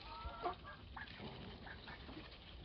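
Adult hens cluck softly and intermittently while feeding on a small Ukrainian farm, a few faint calls over a low, steady background.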